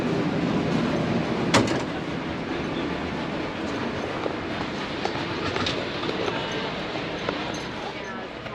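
A passenger train rumbles steadily along the rails in Australia, heading toward Wagga Wagga. The broadband rolling noise is continuous with a brief louder clunk early on and faint rhythmic rail clatter.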